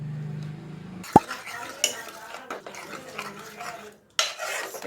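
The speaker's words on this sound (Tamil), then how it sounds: "சேர்த்துட்டு நல்லா கலந்துக்கணும்." A spoon stirs grated coconut into vazhaithandu (banana stem) kootu in a pan over a medium flame, giving close scraping and clinking knocks against the metal at an irregular rhythm.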